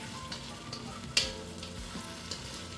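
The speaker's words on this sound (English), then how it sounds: "we're just gonna throw it right into the onions and garlic. Give it a little stir." Chopped tomato sizzles in a pan of onions and garlic for a Greek vegetable stew, a soft steady frying hiss with a single clack of the spoon as it is stirred.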